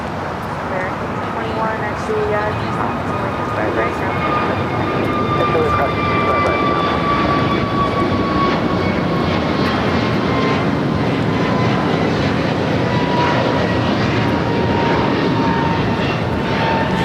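A JetBlue Airbus A321 jet at LAX roars loud and steady throughout, a broad continuous engine rush with slowly gliding whine tones layered over it.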